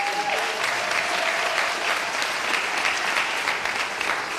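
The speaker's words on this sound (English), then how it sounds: "Will you give another round of applause here?" Sustained applause from an audience at a political speaking event, steady dense clapping filling the whole stretch at an even level with no break.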